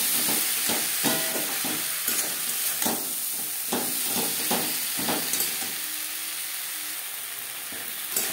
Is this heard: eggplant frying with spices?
yes